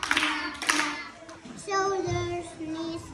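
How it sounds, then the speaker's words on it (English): A few claps at a children's English lesson, close and light, followed by sung or spoken voices carrying a simple tune. "Give a little clap"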